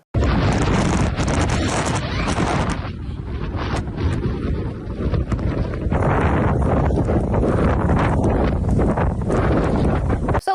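Violent storm winds gusting up to 38 metres per second in the settlement of Tiksi, Yakutia, roar continuously as heavy, buffeting microphone-battering noise, loud and unbroken apart from a brief lull, with no voices.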